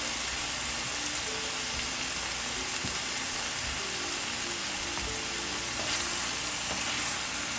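Seasoned shrimp frying in a pan: a constant close sizzle with faint crackles and a steady hiss, with no talking.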